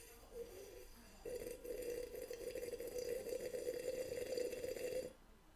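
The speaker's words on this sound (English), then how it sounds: "He's literally just drinking water out of a glass" Water is drunk from a glass in a film scene: a close, continuous bubbling gurgle like a bong hit, lasting about four seconds before it cuts off.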